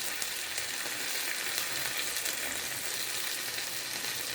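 Ginger garlic paste with whole fennel, cardamom and bay leaf fries in hot oil, making a steady, even sizzle with no talking.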